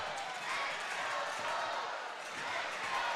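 Arena crowd at an ice hockey game between the Birmingham Bulls and Evansville ThunderBolts, roaring to pump up the home Bulls; a dense, steady wash of many voices cheering at a constant loud level throughout.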